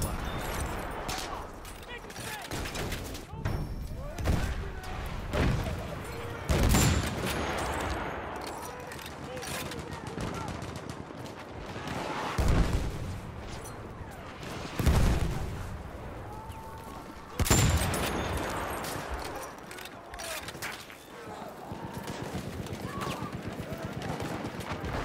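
Bursts of machine-gun fire in a tank-hunting video game ring out several times, loud sharp volleys spaced a few seconds apart, with voices shouting between them.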